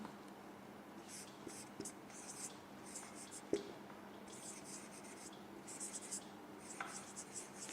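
A pen scratches and scribbles in short bursts while a spoken English tutor writes out sentences for an error-spotting exercise, soft and close, with quiet background between strokes.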